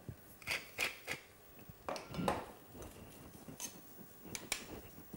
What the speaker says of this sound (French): Un tour de moulin à poivre.